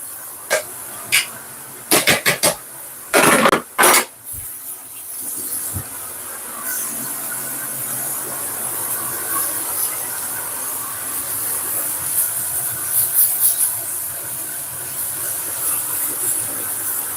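Steak kebabs sizzle on a hot cast iron griddle, a steady close hiss running throughout, with a few sharp bursts and pops near the start.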